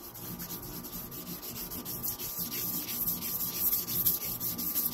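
Steady, wet rubbing and gritty swishing of sandpaper wet-sanding a hard plastic car headlight lens, continuous and close, with no voices.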